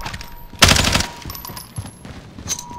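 A submachine gun fires in a video game, a loud close burst of rapid shots near the start followed by a few fainter shots and scattered in-game sounds, with no speech.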